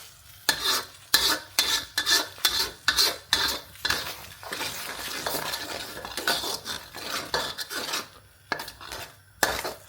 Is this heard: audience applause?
no